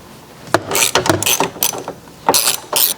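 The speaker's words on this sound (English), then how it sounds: "now we'll use our 10mm socket" Ratchet with a 10mm socket loosening the mounting bolts of a Chevy Silverado or GMC Sierra tow mirror, in several quick, close, loud clicking bursts separated by short pauses.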